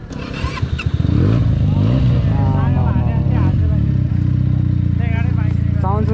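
A Benelli 300S motorcycle engine revs loudly up close, rising and falling through repeated throttle blips after a short idle, with a voice speaking faintly over it at the start.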